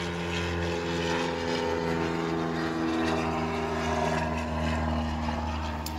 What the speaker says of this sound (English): pardon the airplanes